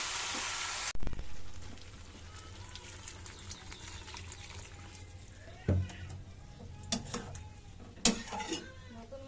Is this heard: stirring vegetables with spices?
yes